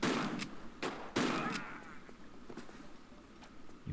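Gunfire from a guard in the video game Tomb Raider III, level Highland Fling: several sharp shots, two louder bursts early on, then scattered fainter cracks in an indoor game setting.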